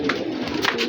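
A caged pet pigeon cooing up close, two short soft coos within a brief moment.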